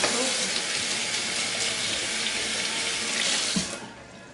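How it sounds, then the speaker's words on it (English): Hands being washed under a running kitchen tap while grilling a T-bone steak dinner, a steady close rush of water splashing into the sink that cuts off near the end. "Wash my hands real quick."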